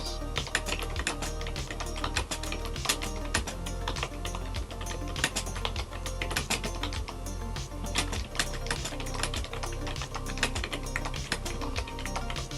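Steady, rapid typing on a computer keyboard, a continuous patter of close, crisp key clicks running the whole time with no voices.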